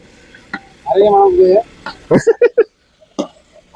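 Chicken and masala being stirred and tossed in a pan for Trivandrum-style biryani, a short burst of sizzling scrape followed by several quick clattering stirs, with a voice speaking between them.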